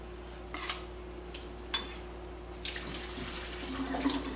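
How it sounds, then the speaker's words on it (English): Cooked carrots being drained, a steady wash of running and splashing water with a few light clinks of a pot and lid, close and fairly quiet throughout. "my carrots have cooked for about 40 minutes, and so now I'm going to drain them."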